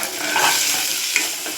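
Oggarane tempering of dried red chilli, curry leaves and onion sizzles steadily in a pan for sambar, a continuous bright hiss close by with no pauses and no talking.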